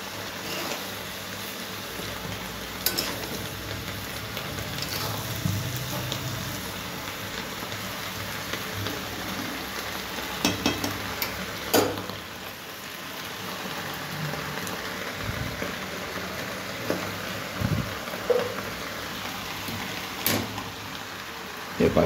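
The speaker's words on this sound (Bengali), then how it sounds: "এখানে পেঁয়াজ কালি ভাজা চলছে।" Onions frying in a pan in a home kitchen, a steady crackling hiss with scattered louder pops and spits that goes on throughout.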